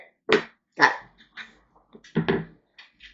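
A dog under a workshop counter gives a few short, gruffy barks and low grumbling growls, close and moderately loud, spaced unevenly with quieter huffs between them.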